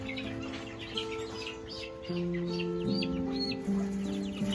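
A Rhode Island Red hen gives a run of soft, drawn-out clucks and murmuring calls, close by and moderately quiet, with other faint chirps in the background.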